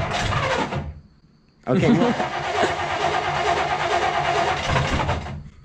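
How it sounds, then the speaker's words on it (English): Car engine cranks and catches after a short silence, then settles into a loud, steady rumbling idle that runs to the end, with a brief spoken word near the start. "you must have a rumbling engine"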